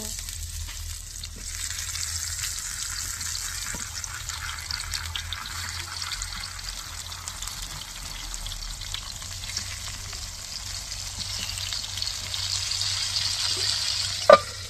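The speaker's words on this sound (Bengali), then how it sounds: "কিছুটা তেল ঢেলে নেব বেগুনগুলো দিয়ে দেব" Eggplant pieces fry in hot oil in a pan, producing an even, continuous close sizzle that holds steady throughout, with one sharp knock near the end and no talk.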